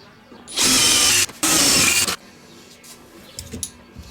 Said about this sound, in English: we're going to drill out the last of these holes